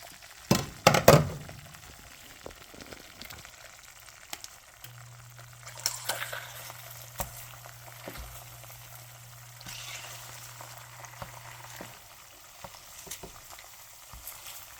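Eggs fry in a pan with a quiet, steady sizzle, punctuated by a burst of scraping and clatter at the start and scattered soft taps and stirs throughout.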